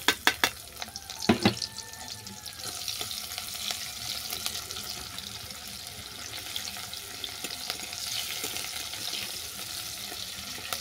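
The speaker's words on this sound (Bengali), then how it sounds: "এই ভাজা তেলের মধ্যে দিয়ে দিচ্ছি কুচানো পেঁয়াজ।" Chopped onion dropped into hot oil that was just used for frying lentil dumplings crackles and sizzles steadily, with a few sharp clatters of the spatula near the start and no talk.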